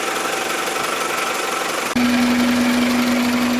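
A steady, close engine drone from a 1997 Toyota Camry fills the recording; halfway through, a low hum kicks in and the droning grows slightly louder and fuller.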